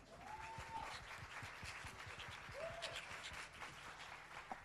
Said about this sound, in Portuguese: Vamos bater palmas, gente!